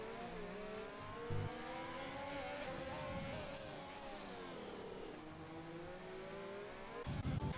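Racing cars, including a Ferrari and a Renault, in a video game race at Sakhir, their engines whining at a high pitch that climbs and falls as several cars run close together.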